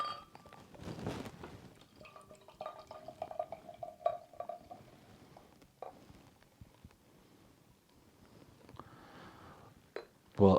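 Pliny the Elder double IPA from Russian River Brewing is poured into a glass: a faint, steady trickle with small splashes and drips, close but soft, and no one speaks.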